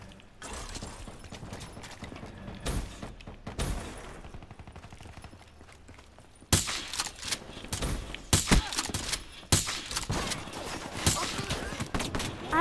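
Gunfire in a Call of Duty: Black Ops 3 gun game match, scattered shots and short bursts of varying loudness, some sharp and close, with a voice talking over the action.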